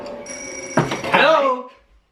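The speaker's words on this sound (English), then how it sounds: "Answer the phone as soon as it rings." A telephone bell rings in a short tonal burst, then voices break in loudly over it and the ringing fades out, all heard close.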